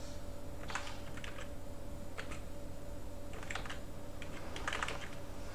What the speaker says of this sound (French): Voilà, le clavier